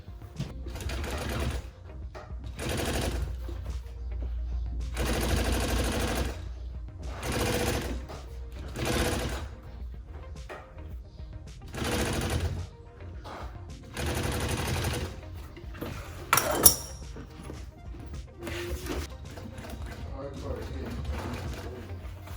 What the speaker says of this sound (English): So I'm just gonna go through and stitch the sides on here